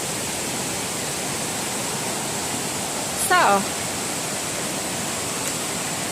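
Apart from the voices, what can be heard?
flowing creek water on the Appalachian Trail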